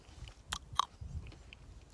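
Someone chews a freshly picked cranberry up close, soft wet crunches and a few sharp bites in an uneven rhythm, fairly quiet and with no talking.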